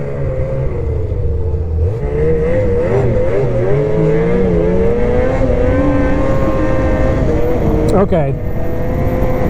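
A BRP Lynx Xterrain 900R snowmobile engine revs loudly and close, its pitch climbing and falling through several throttle surges, with a brief spoken word partway through.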